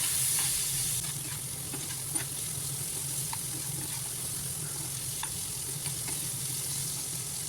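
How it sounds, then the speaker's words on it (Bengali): Potatoes coated in salt and turmeric fry in a pan with a steady, close sizzle, punctuated by occasional light clicks of stirring. "তো এইদিকে আলুটা ভাজতে থাক"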